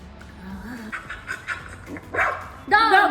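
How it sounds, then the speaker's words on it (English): A dog barks in a few short yelps and woofs, moderately loud and close, as part of an animal sound guessing game, with voices talking around it. "Dog. Yes."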